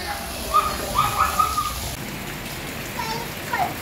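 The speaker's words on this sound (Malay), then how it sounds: "Hujan kuat sangat dekat luar." Steady heavy rain patters continuously outside a village homestay in Kedah, Malaysia, with a few faint bird chirps rising above the wash of falling water.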